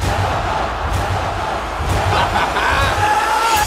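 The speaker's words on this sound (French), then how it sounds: "As-tu entendu la foule?" A large arena crowd at a UFC event roars continuously, a dense loud wash of cheering and shouting with rising swells, no speech.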